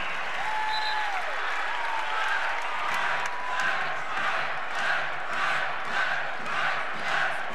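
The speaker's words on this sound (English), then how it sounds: "And some derisive applause from the K-State fans." A large indoor basketball crowd of Kansas State fans gives derisive applause and murmurs, the clapping swelling in loose, repeated waves, with a whistle and scattered shouts.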